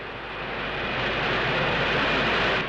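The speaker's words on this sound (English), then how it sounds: "The 4 Rolls-Royce turbojets are designed to cruise at this truly fantastic speed." Four Rolls-Royce turbojet engines of a Concorde at cruise, a steady broadband roar that swells slightly and holds loud and even throughout, with no voices.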